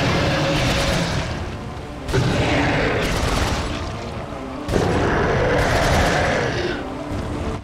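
Gunfire in the video game Resident Evil 4, a few heavy booming shots spaced seconds apart, each followed by a long rumbling decay, loud over constant game background noise.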